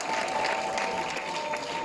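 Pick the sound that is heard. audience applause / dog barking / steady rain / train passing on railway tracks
audience applause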